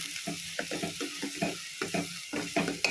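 Ground coconut paste sautéing in hot coconut oil, a steady close sizzle with soft rhythmic scrapes and stirring taps repeating about every half second, no voices.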